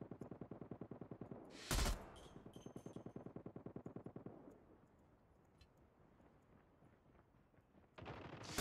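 Rapid automatic M16 rifle fire in the mobile shooter Call of Duty Mobile, a fast, evenly spaced burst of shots lasting several seconds, broken by a sharp blast, then quiet before another loud burst at the end.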